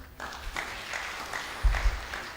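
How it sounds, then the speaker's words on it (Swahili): A church congregation bursts into applause, a dense wash of clapping with a couple of louder thumps near the end, no talking over it. "tumpigeni makofi"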